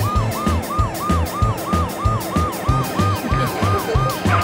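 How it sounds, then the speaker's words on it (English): An ambulance siren wails in a repeating up-and-down pattern, loud and close, over steady traffic and engine noise. "The Pororo ambulance was dispatched to treat another emergency patient"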